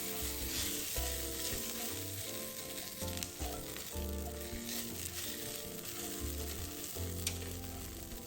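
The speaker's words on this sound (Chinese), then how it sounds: "將少許油將蒜瓣與紅辣椒爆香" Garlic cloves and red chili fry in a little oil, a continuous close sizzle and crackle broken by repeated stirring scrapes and knocks of a utensil in the pan.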